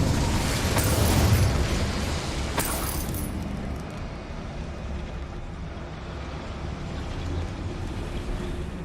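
A fiery Incendiary spell blast in Hogwarts Legacy, a loud low burst at the start that rolls off into a long rumbling, crackling tail fading under steady ambient game noise.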